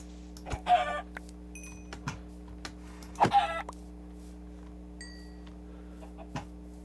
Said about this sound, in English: I just need to eliminate all these spare chickens.